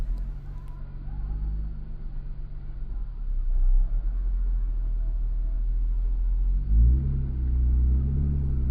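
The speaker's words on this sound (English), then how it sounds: "Watch this Jeep's rear tires as they negotiate the loose sand." Jeep driving off-road through loose sand, a low continuous engine rumble with the tires churning, swelling slightly midway and picking up a deeper revving push toward the end.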